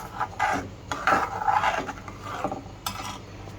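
A spoon scraping and stirring a spiced gram flour mixture in a pan, irregular rasping strokes with clinks of metal, close and fairly loud, no talk.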